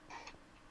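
One short, quiet sneeze, a brief voiced burst that cuts off quickly, heard faintly against a near-silent room.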